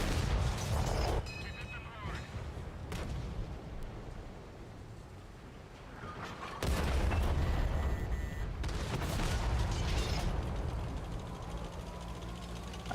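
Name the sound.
artillery fire in a tank video game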